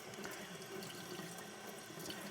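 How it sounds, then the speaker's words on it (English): Tap water runs steadily over a honing stone held under the stream, a soft, even splashing patter with faint drips, close and fairly quiet, with no voices. "So I'm simply holding it under running water, putting it back."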